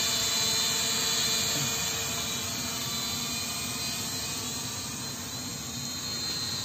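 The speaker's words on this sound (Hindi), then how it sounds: "आप देख सकते हो काफी स्टेबल गाइस अपने फ्लाई कर रहा है ड्रोन।" An E88 camera drone hovers outdoors, giving off a loud, steady high-pitched buzzing whine from its propellers that stays close and constant throughout.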